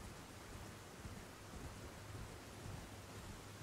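Steady rain hiss with low rumbling thunder in the Elden Ring: Shadow of the Erdtree video game, faint and even throughout.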